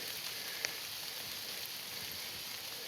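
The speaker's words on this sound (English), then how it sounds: "not only is it raining, but it's also doing something else. This is hail" Steady hail and rain pour down on a hiking trail in the Sandia Mountains during a thunderstorm, a dense, close hiss with one sharp pellet tick standing out briefly.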